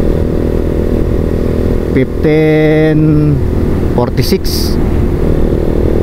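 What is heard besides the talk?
motorcycle revving in top speed test, Vperman 150 or TMX155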